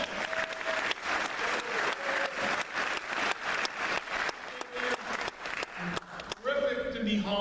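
An audience at a town hall meeting in Roseburg claps in a dense, lively round of applause, and a voice begins speaking as it fades.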